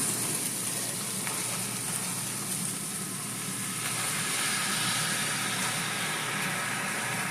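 Collard greens sautéing in a pan give a steady, even sizzle with a bright hiss that holds unchanged from start to finish, with no talking.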